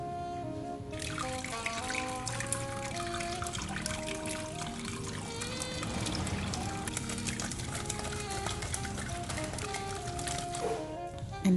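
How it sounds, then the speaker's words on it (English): Vegetable-boiling water being poured into a grinder for a beef light soup with beetroot, a steady trickling pour running continuously at moderate level with no talk. "So I'll be adding in, some water. This is the water that I use to boil the veggies"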